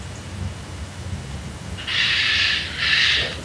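Two short high-pitched bird calls sound in quick succession, heard over a low rumbling background during a tabletop roleplaying game session.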